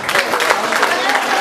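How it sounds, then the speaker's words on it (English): Dense, steady applause from an awards-night audience at a rugby league club presentation evening in Oldham, a continuous wash of many hands clapping close by. "So I'd like to give a massive round of applause, please, for the 2012 Clubman of the Year,"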